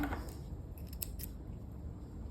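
Scissors snip a thread while sewing a skirt, a couple of quick, close, quiet cuts in a calm room.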